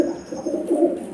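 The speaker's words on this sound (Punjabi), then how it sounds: "ਕਬੂਤਰ ਜਿਹੜੇ ਕੋਬਰੇ ਕਬੂਤਰ ਨੇ" Cobra pigeons cooing close by, a soft, low, rolling coo repeated in quick pulses over about a second, with no talking.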